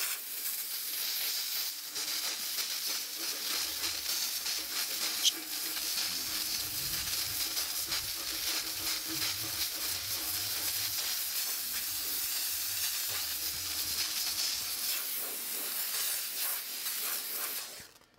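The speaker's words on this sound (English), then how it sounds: "you can just blow dirt away with steam" A Vevor steam cleaner blasts a continuous, loud hiss of steam for a long stretch, steady and close, used to blow dirt and gunk off equipment, with a low rumble underneath.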